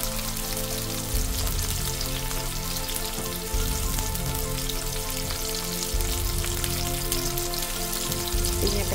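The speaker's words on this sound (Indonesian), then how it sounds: "Bawang bombay kita masukkan dan kita gongsoy ya, kita goreng ya sampai tumis." Onions sauté in hot oil in a pan, giving a loud, continuous close-up sizzle and crackle that runs steadily throughout with no talking.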